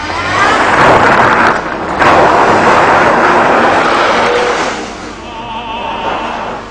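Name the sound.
GTV 3-litre V6 coupe driving and accelerating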